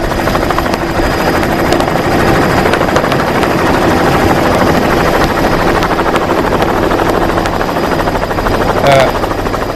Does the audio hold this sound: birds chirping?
no